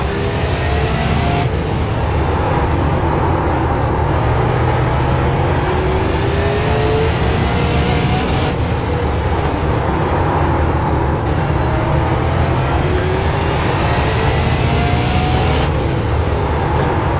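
Super late model race cars roar around the Southern National track under green, a constant loud engine drone with repeated rising and falling pitch sweeps as cars accelerate and pass.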